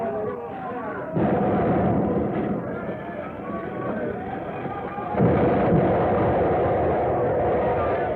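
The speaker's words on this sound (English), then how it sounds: "He's opened fire on them." Gunfire from a ship during a naval chase at sea, a dense continuous rumble of firing and blasts sustained throughout, loud and close, with voices talking over it.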